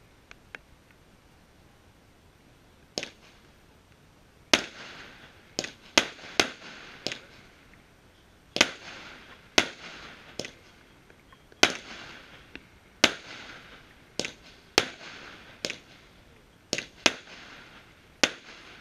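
Eisfinks 25 mm firework cake fires its ten shots of golden brocade crowns with silver blinkers, sharp pops spaced irregularly over about twenty seconds, heard outdoors at a New Year preview shoot.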